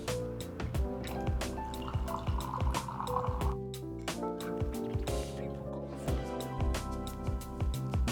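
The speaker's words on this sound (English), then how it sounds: "Let's pour a cup." Brewed filter coffee from an Encore ESP Pro setup pours from a carafe into a cup, a steady liquid fill with dripping and trickling under a light background music bed, no speech.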